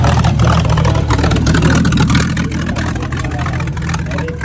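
Small vintage Talbot cars run on the Montlhéry track, their engines roaring loudly and close, then easing slightly as they pull away.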